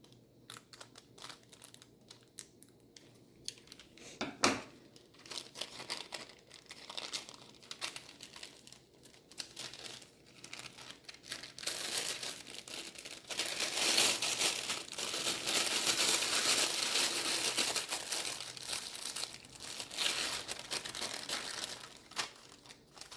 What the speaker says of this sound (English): So we'll just get another piping bag. We're going to cut the tip off.